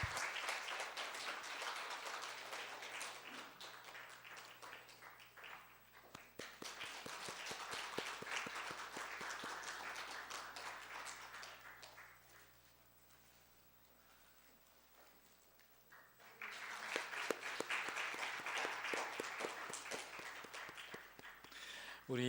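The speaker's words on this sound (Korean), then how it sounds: "박수 부탁드립니다" Congregational applause in a church during a Christmas Sunday morning service, breaking out in two long rounds, pausing briefly, then returning for a third, as flowers and gifts are handed to course graduates.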